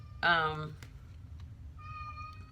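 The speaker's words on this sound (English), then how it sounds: "that's just my cat, my son's cat meowing" A single clear cat meow, drawn out and fairly close, followed later by a softer, thinner second meow over quiet room noise.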